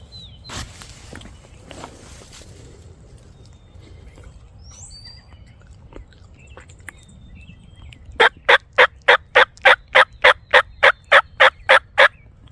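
A wild turkey gobbles outdoors on opening day of hunting season. A quiet stretch with soft rustling ends in a loud, close, rapid series of about a dozen sharp, evenly spaced calls, with no talk.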